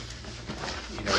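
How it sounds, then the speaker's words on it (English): A 3-way zipper on an Earth Bag Premium bag gives a short, close zipping rasp that builds louder toward the end, alone in a quiet room. "the innovation here was the 3-way zip"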